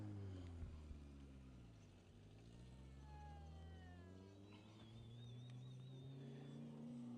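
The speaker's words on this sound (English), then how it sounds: "Here's our next car coming down the riverbed." A rally car in the Norra 500 off-road race coming down the Erendira riverbed, engine drone rising and falling in pitch as it approaches, faint and distant under steady background noise.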